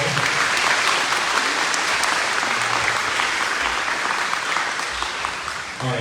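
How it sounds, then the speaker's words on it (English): A large crowd applauds steadily for several seconds at a high school band concert, a dense, loud wash of clapping that tapers slightly toward the end. "one more round of applause for our leadership in the fall"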